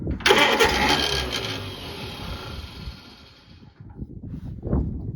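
A Farmall BN tractor engine cranks over in a burst of rough mechanical churning, loud at first, then winds down and stops, leaving a few faint knocks and scuffs outdoors.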